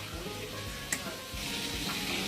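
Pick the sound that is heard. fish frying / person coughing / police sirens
fish frying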